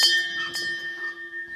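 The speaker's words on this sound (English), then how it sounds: "Got my bell." A hand bell rings close and loud with a sustained metallic tone, a couple of quick strikes in the first instant, then the ring slowly fading over the remaining moment.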